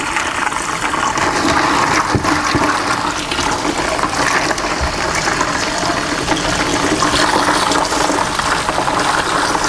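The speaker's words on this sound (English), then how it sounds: "make sure that you're putting cold water in" Cold water rushes steadily into a bucket for nearly ten seconds, a continuous loud hiss and splash with no pauses.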